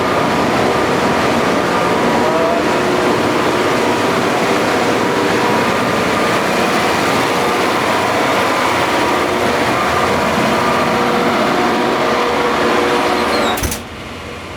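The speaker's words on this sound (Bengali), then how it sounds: "ওইদিকে ওইটা জেনারেটর একদম পুরা সাপ্লাই হইতেছে আর কি ইলেকট্রিক সাপ্লাই" A ship's generator runs in the engine room below deck on an offshore vessel, a loud, steady, unbroken mechanical roar and hum that drops slightly in level at the very end.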